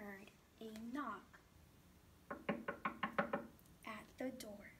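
A run of about six quick, firm knocks on a door sounds in an even rhythm, set between stretches of a voice reading a story aloud.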